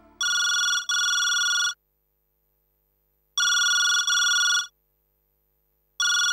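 A telephone rings in double electronic bursts, a pair near the start, another pair mid-way and a third beginning at the end, loud and clear with silence between them and no voices.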